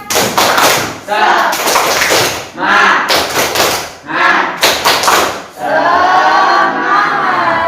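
A group of people performing the rhythmic 'tepuk semangat' clapping, loud close claps in a patterned beat with shouted group voices between the bursts, pausing briefly before a final longer round.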